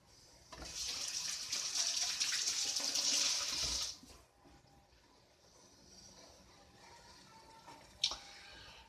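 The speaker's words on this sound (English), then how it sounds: "excuse me one second while I wash my hands" Water runs from a tap onto washing hands for about three seconds, a close splashing gush, then stops and leaves quieter sink sounds and a small clunk.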